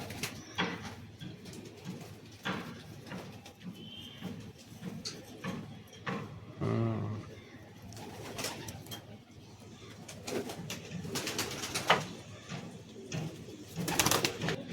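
Pigeons of the Giribaz and Madrasi breeds coo softly in a low, rolling call. The cooing sits under scattered rustling and handling noise, with a brief louder coo partway through.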